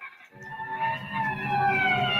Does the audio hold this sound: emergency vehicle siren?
yes